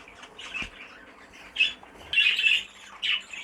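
Caged birds, two cocks and two hens in a stock cage, squawk in short, harsh bursts close by, with a few scattered calls and some faint rustling between them.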